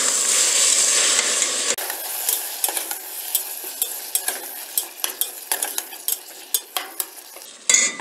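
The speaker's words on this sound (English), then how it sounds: "Now what we'll do is we'll add the tomatoes, the chopped tomatoes. We'll give it a nice stir." Chopped tomatoes being stirred in a hot pan for cream of tomato soup, a sizzling fry at first, then a run of clear spoon scrapes and taps against the metal, close and alone with no talk.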